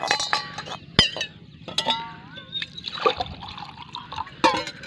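Water being drunk from a vessel during a break from thorny hedge-cutting work outdoors: light liquid sloshing with sharp clinks of the container and brief, irregular sounds around it, fairly close, with no talk.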